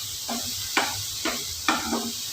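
Green chili paste with jaggery sautéing in oil for a Tamil-style thokku, a soft steady sizzle broken by four spoon scrapes against the pan at regular intervals.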